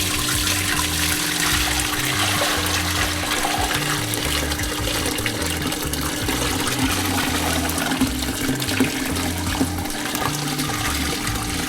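Fish head soup broth is dumped through a fine strainer, making a loud, continuous rush of pouring, splashing liquid for several seconds with no talking.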